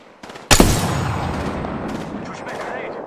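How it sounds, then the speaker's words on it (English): Gunfire in a squad-based shooter video game: a sharp loud shot burst after a faint lead-in, followed by a decaying rattle of further shots and scattered impacts. "Taking fire, friends"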